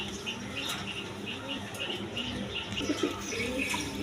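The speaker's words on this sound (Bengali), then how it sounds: "দর্শকবৃন্দ এখানে এক জোড়া কিং কবুতর আছে" A pair of red king pigeons coo softly and repeatedly nearby, low bubbling calls over a steady background hum on a pigeon farm, with faint higher chirps mixed in.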